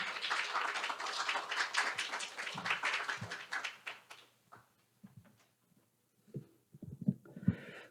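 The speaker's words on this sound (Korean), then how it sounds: "큰 박수로 환영해 주시면 감사하겠습니다" Audience applause rises at an accounting society symposium as the association's president is welcomed, a dense sustained clapping that fades after about four seconds, leaving scattered faint shuffles and small noises.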